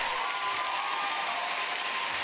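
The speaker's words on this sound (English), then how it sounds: "Thank you for the applause" Applause from a crowd at an Elizabeth Warren speech, a steady dense wash of clapping that holds at full strength for a couple of seconds with no voices over it.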